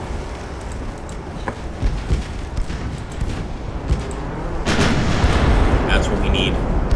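Naval 9-inch guns booming in Ultimate Admiral: Dreadnoughts, a game battle of the Second Opium War: repeated heavy reports over a constant roar of battle noise, growing louder and denser near the end, with a voice talking over it.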